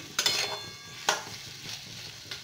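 Drumstick stalks coated with spices are tossed in a pan, giving a soft sizzle under a few sharp utensil scrapes and clinks against the pan, close and moderate, without speech.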